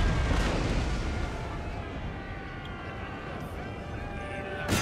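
A dense, rumbling din of distant musket fire and booming cannon blasts in the video game Napoleon: Total War, continuous and layered, with a brief sharper burst near the end.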